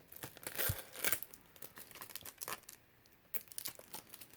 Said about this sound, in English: Get all the plastic off of here.